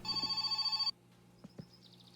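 Telephone ringing in the video game My Summer Car, a single bright trilling ring lasting under a second, followed by quiet clicks and a faint fading tone.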